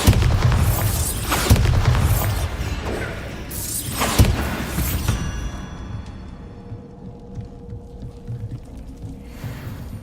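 Heavy booms of the Bombarda explosion spell in Hogwarts Legacy, with two or three big blasts followed by shattering debris and a fading rumbling tail, loud and close.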